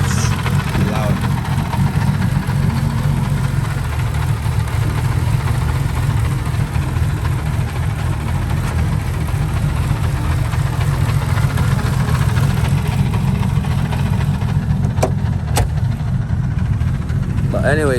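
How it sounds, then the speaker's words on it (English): A car engine idles loud and steady right after a cold start, with a low, constant rumble and a noisy clutch rattling underneath for the whole stretch, and a couple of faint clicks near the end. "The clutch making all that noise."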